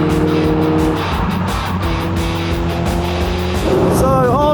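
An old Skoda Yeti accelerates hard on a race track, its engine loud and close with a steady droning rise through a gear change, ending in a brief squeal.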